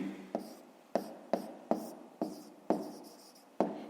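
A pen writes numbers by hand on paper during a fifth-grade maths exercise: a string of soft scratchy strokes, each beginning with a sharp tap, close and quiet, with no speech.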